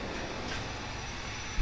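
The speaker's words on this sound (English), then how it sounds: "It's a semi-truck that just pulled in." A semi-truck pulling in gives a steady, loud broadband roar and hiss that fills the short stretch, with a brief low thump near the end and no talking.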